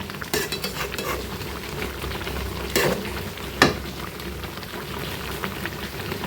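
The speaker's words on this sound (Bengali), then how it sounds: "নাড়াচাড়া করে দিই হালকা হালকাভাবে।" Raw mango pickle with sugar is gently stirred in a pan on the stove, soft steady scraping and wet sizzling close up, with a couple of louder clinks of the spoon against the pan.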